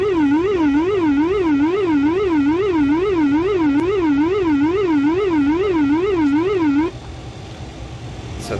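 An ATR aircraft's elevator trim whooler warning sounds in the cockpit, a loud warbling tone rising and falling in a regular rapid cycle for about seven seconds before cutting off, leaving quiet cabin hum.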